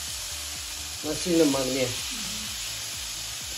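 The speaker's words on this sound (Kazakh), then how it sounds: "жаңағы маринадтаған тауық пен пиязымызды салып, 2-3 минут шамасында араластыра отыра қуырамыз." Marinated chicken and onion hit hot oil in a pan and sizzle in a bright, steady hiss, with a short louder stirring burst, while a voice speaks briefly over it.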